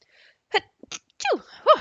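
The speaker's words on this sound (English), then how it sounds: "And now I'm going to sneeze." A single sneeze bursts out after a few small breaths and sniffs, a sharp close-up explosive sound, loud and alone.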